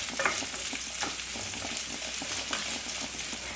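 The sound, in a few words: onions and garlic sautéing in a pan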